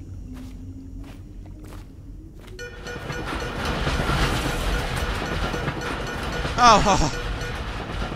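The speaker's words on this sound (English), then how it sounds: "It's just that damn tram." A tram rolls past in the game Dishonored, a rising rumble and rattling clatter building from quiet and lingering close, with a brief squealing screech near the end and a single short exclamation from a voice.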